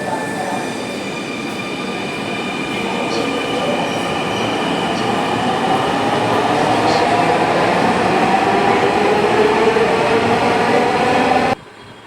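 A Dhaka Metro Rail train pulls away from a station, its rumble and high electric whine building steadily louder and close by over about eleven seconds before cutting off abruptly.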